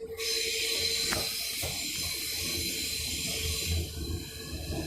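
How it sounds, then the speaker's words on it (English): A commuter train pulls into a station platform, a steady broad rumble and hiss with squealing tones and a brief clank, close and continuous throughout. "there's the train we're getting home pulling in"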